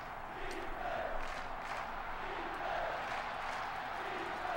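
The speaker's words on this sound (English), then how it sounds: "First time I pumped up the crowd all game." In the NCAA Football 06 video game, a stadium crowd roars and cheers as a steady, fairly faint wash of noise with slight swells, heard continuously throughout.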